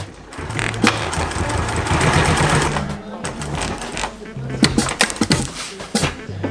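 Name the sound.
sewing machine sewing batten pouches for a boom bag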